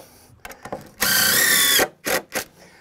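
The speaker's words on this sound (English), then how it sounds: "Drive your screw." A power drill driving a screw into a deck board: a few short clicks and taps, then a loud sustained whine for under a second, followed by two brief bursts, close up.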